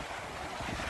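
Wind blowing at the beach, a steady loud rush with gusts buffeting the microphone and a faint wash of surf beneath it, with no talk.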